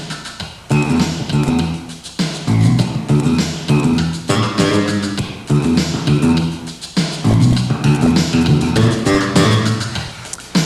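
Punchy kick drum thumps with bass notes filling the gaps between them, a loud, looping groove with short pauses and no voices.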